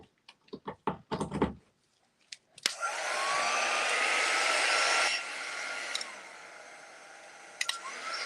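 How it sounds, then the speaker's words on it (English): A handheld craft heat drying tool blows air in a steady loud whoosh for several seconds, then drops to a softer setting, preceded by a few sharp taps and clicks. "I'm going to use my drying tool."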